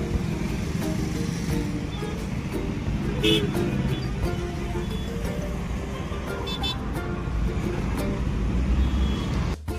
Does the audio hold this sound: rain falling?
no